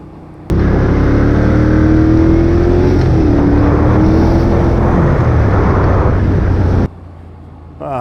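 A Moto Guzzi Griso motorcycle engine drones loudly at close range while riding, a steady throaty roar with pitch rising and dipping slightly through gear changes before cutting off abruptly near the end.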